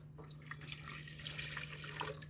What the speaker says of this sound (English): Now we are going to add 1 cup of warm water, about 240 ml of warm water